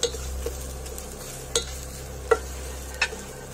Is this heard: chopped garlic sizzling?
yes